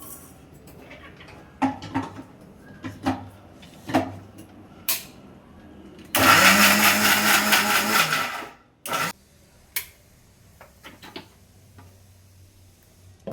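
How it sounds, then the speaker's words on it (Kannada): A kitchen mixer grinder whirs loudly for about three seconds as it grinds tempered spices for a mushroom biryani, then a short second burst follows. Scattered clicks and knocks come before and after it, and no one speaks. "ಇವಾಗ ಒಗ್ಗರಣೆ ಮಾಡಿ ಇಟ್ಕೊಂಡಿದೀವಲ್ಲ ಅದನ್ನ ಮಿಕ್ಸಿಗೆ ಹಾಕೋಣ ಆಯ್ತಾ."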